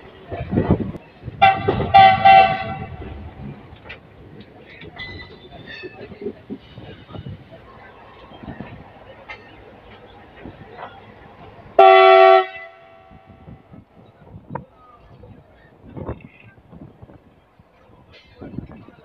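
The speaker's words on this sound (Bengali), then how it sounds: "তোমরা 6G'র কি হর্নটা শুনতে পাচ্ছ? কি পুরো একটা হর্ন দিচ্ছে।" A WDG-6G diesel locomotive horn sounds a loud, sustained blast, followed by a couple of shorter, fainter toots over rumbling train noise.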